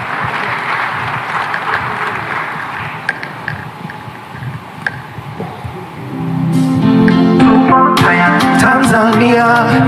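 Crowd applause welcoming a performer at a live national address event in Dar es Salaam, a dense steady clapping roar that gives way after about six seconds to loud music starting up.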